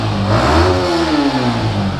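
A modified Yamaha R15 motorcycle engine revs loudly and close by, its pitch rising and then easing across a couple of seconds of sustained throttle, with no talking over it.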